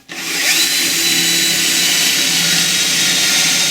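A power drill in drill mode bores a pocket hole through wood held in a UJK pocket hole jig clamped to a table, a loud, steady whirring grind that starts abruptly and holds constant without talk.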